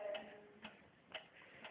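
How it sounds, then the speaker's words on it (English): A clock ticks softly and steadily, with three or four faint, evenly spaced clicks over a quiet background hiss. "What is that mysterious ticking noise?"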